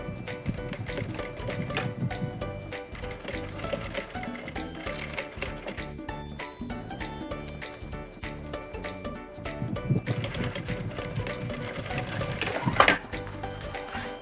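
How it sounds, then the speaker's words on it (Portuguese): Sewing machine running a straight presser-foot seam along the gusset of a handmade bag, a steady close mechanical whir with fast ticking needle strokes throughout, no talking. "E passo uma costurinha pé de máquina aqui"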